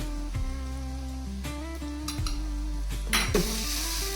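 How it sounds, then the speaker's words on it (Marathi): Spices and salt are stirred into dry toor dal in a pan: a steady low sizzle runs throughout, broken by repeated scraping strokes of a spoon against the metal. "हे सगळं एकत्र असं मिक्स करून घेऊया"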